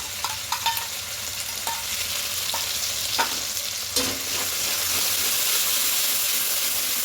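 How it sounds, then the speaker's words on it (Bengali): Spice paste of ground coriander, ground cumin and yogurt being fried in oil for a vegetarian potato-paneer dum, a steady, close sizzle with stirring scrapes and a few clinks early on. "এবার একটু কষিয়ে নেব মশলাটাকে তেল ছাড়তে শুরু হওয়া পর্যন্ত একটু কষিয়ে নিতে হবে"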